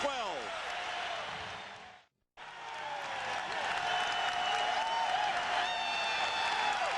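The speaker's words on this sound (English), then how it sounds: "Crowd is going wild here, Tommy" A packed arena crowd at a 1987 NBA Finals basketball game at the Forum roars loudly and steadily, with a brief cutout in the middle and a commentator's voice over the din.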